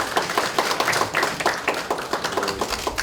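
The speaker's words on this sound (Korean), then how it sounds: "격려의 박수를 보내겠습니다" A crowd at a Democratic Party committee event gives a round of encouraging applause: many hands clapping in a choppy, uneven rhythm, close and fairly loud, continuing for a few seconds with no one speaking.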